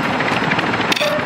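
A helicopter in Call of Duty DMZ thrums with loud, close rotor chop and engine roar for a brief moment.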